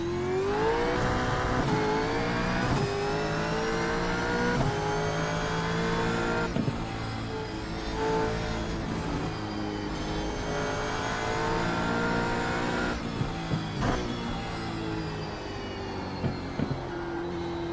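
Gen 3 Supercar engine in the iRacing sim, revving hard and bouncing off the limiter with rising and falling pitch sweeps, loud and continuous throughout, with a few sharp transient blips near the end.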